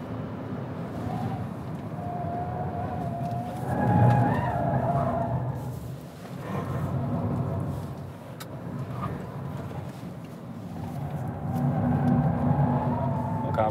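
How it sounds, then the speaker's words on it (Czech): Tyres squealing on a race track during an electric car track session, a sustained high skid whine rising and falling over steady car noise and road rumble inside the cabin. "Akorát za náma píští gumy"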